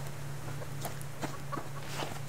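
Chickens cluck in the survival video game Subsistence, with a few soft intermittent clucks over a steady low hum and no talking.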